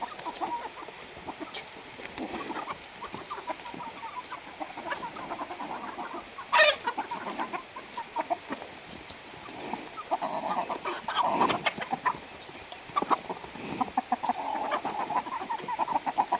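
Chickens clucking steadily in the background of an outdoor farmyard in rain, with a brief rooster-like call midway and denser, livelier clucking toward the end.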